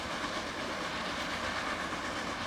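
A video game train runs steadily in close perspective, with a continuous rumbling clatter of wheels and a faint hiss, loud and unbroken throughout with no talking.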